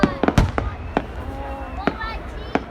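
Fireworks explode at a 2021 display, with several sharp booming bangs spaced irregularly, some with crackling tails and whistling, and people talking nearby.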